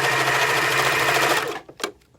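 A sewing machine runs steadily, stitching a homemade fabric face mask, then stops at about one and a half seconds, leaving only a few faint handling clicks.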